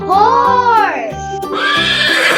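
Close, loud horse neigh rises and wavers into a whinny, then trails off, followed by a snort-like burst over a rhythmic musical backing in a children's animal-names song.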